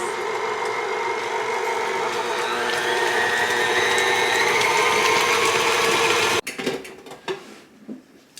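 Cream cheese frosting with vanilla being whipped by an electric mixer, a steady loud whirring drone that cuts off abruptly, followed by a few scraping clinks of the bowl and beaters.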